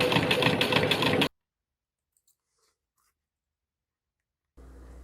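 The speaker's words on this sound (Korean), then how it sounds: "봉제" A sewing machine stitches a leather pencil case in a loud steady whir for just over a second, then cuts to silence before a low hum returns at the end.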